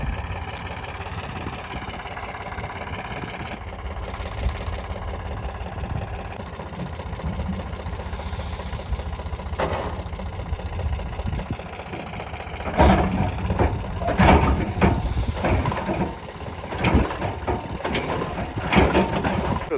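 A tractor engine runs steadily throughout, idling with a low mechanical rumble, then becomes louder and rougher with clattering and knocking bursts in the second half.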